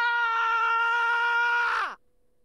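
A single long, loud scream from the visual novel game Raging Loop holds at one steady pitch for about two seconds, then trails off and drops away sharply to silence.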